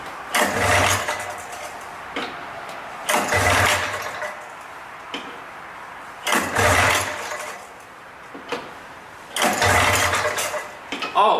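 A 1979 Kawasaki Drifter 440 snowmobile is pull-started four times. Each loud, close pull brings a brief churning engine burst that fails to catch, with quieter pauses in between.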